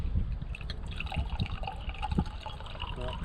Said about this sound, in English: So we'll see if we can pour this in here without spilling it.